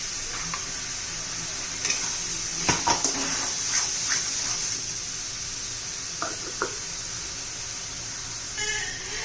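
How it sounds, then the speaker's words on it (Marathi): Coconut and tomato masala sautéing in oil for a fish curry, a steady bright sizzle with scattered spatula scrapes and stirring clicks against the pan, close and continuous with no talking. "खोबरं आणि टोमॅटो चांगलं तेल सुटेपर्यंत परतून घेऊया आपण"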